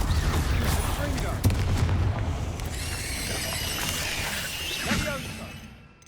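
Blasting-spell explosions in the Hogwarts Legacy video game, a sharp burst followed by crackling debris and shattering, with a shouted incantation and background game music.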